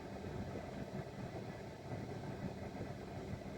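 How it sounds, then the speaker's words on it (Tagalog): A car's air-conditioning compressor runs while the engine idles, giving a steady, close, even mechanical hum and drone with no breaks and no voices. "Umaandar yung ating compressor niyan."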